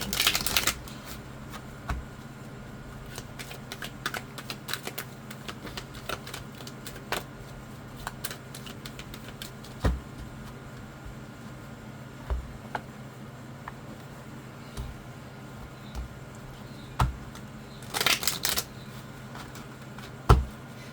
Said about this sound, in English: I like to see the cards being shuffled, so that's why I do this.